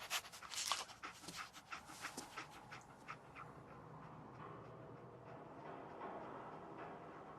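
Dogmeat, the dog companion in Fallout 4, panting in quick rhythmic bursts up close, fading into a steady quieter background of ambient game noise.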